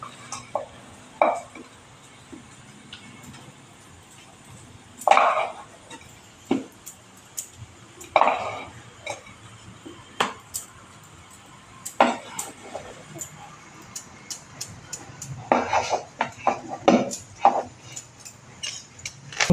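Bottle gourd barfi mixture scraped from a kadhai onto a plate, heard as scattered metallic scrapes and clinks of a spoon against the pan, some sharper bursts, close and without talk.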